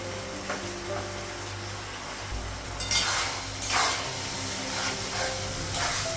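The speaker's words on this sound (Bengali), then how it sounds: "পেঁয়াজটা মশলাটা একটু ভেজে নেব" Onion and spices fry in a home kitchen pan, a soft steady sizzle with a few brief louder hissing bursts as the mixture is stirred, fairly faint and without talk.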